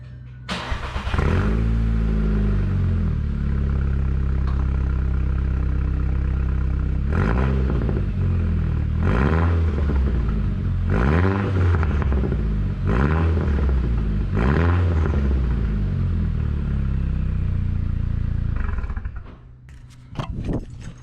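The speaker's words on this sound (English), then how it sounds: "there's the revs. That's what the car sounds like before and after." A Volkswagen Golf R fitted with a CTS Turbo catback exhaust revs repeatedly, loud and close, each blip rising and falling in a steady series before the engine settles back near the end.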